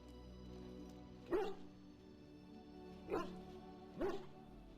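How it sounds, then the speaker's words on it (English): A dog in the Dragon Age: Origins video game gives three separate short barks spaced a second or two apart. They are moderately loud over a steady low game ambience, with no talk. "Pet the dog."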